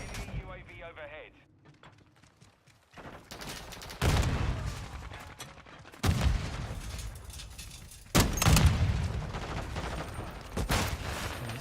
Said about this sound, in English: Man, these guys have turned it up with the explosions.